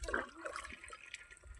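Water tipped from a mug onto a buffalo splashes in a few quick pours over about two seconds. It is close and fairly quiet, with no talk.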